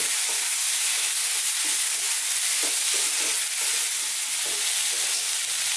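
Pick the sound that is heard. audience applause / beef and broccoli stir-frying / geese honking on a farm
beef and broccoli stir-frying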